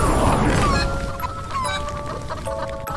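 A chicken clucks repeatedly in the Roblox game Escape The Castle Fortress Obby, quick close clucks with a rooster-like tone over a busy game background.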